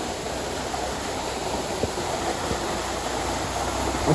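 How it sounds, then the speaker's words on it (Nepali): A mountain waterfall, partly lined with poured concrete, pours in a steady broadband rush that fills the whole stretch without pause, with a couple of faint knocks partway through. "यहाँ पानी आउँदा चाहिँ ठुलो हुन्छ क्या यो झर्ना चाहिँ।"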